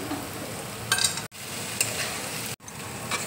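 Banana blossom frying in ghee with a little sugar in the pan, a continuous close sizzle broken by spatula scrapes and two abrupt cut-outs, no one speaking.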